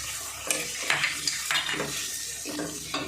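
Chopped tomato goes into a pan of frying spice masala with dry chili powder, giving close, repeated scraping and clattering stir strokes over a steady sizzle, with no talking.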